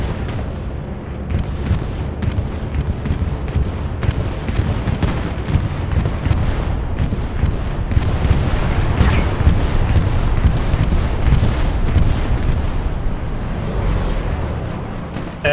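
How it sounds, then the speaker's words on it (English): Continuous heavy booms and rumbling blasts from a bombing run in a competitive strategy war game, dense and loud throughout with rolling low-end impacts and crackling gunfire layered over each other. "Now comes the bombing run."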